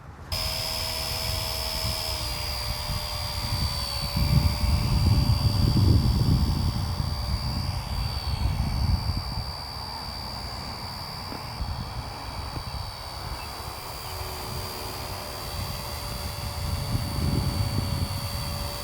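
A WLtoys XK170 Black Hawk RC helicopter starts up and auto takes off, its high-pitched motor whining steadily while rotor wash rumbles and swells, close by, with no talking.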